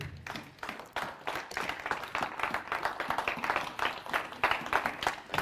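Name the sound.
congregation applauding at a church sermon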